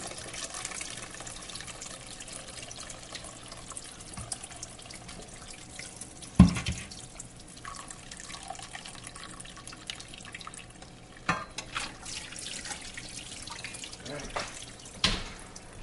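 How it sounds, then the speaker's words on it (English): Mozzarella curds being strained from whey, with soft continuous liquid trickling and pouring plus a few sharp splashes or knocks, heard nearby under light, intermittent talk. "we're going to dump out or strain curds from the whey"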